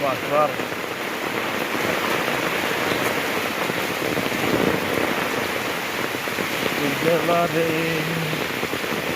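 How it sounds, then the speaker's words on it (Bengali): Heavy rain pours steadily and loudly throughout, a dense continuous hiss of drops on surfaces, with brief voices talking faintly underneath at the start and near the end. "যেমন বৃষ্টি হইতেছে"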